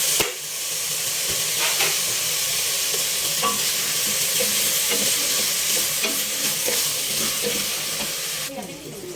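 Celery and chickpeas stirred in a hot pan, with a steady loud sizzle and hiss running throughout and the scrape of the spoon breaking through at intervals.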